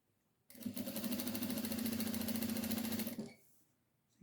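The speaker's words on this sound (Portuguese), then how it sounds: "E vou fazer uma costura, agora sim, com um pezinho de máquina" A sewing machine with a presser foot runs a hem on a baby bib, one steady close burst of rapid stitching lasting about three seconds before it stops.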